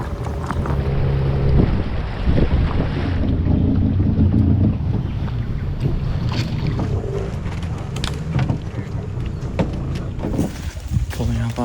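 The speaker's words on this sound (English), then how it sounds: "we got about like a 2 or 3 hour boat ride before we're to camp" Motorboat ride on a river in the Amazon jungle, a steady engine drone and rushing water under gusting wind buffeting the microphone, loud and continuous throughout.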